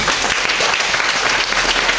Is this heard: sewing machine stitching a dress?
no